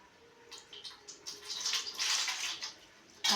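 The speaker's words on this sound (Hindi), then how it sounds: "ये अब हम हाथ धोएंगे" Running water splashes as hands are washed during a Hindu puja, a steady close stream rising and falling over a few seconds with no talk.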